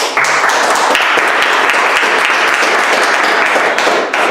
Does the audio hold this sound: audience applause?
yes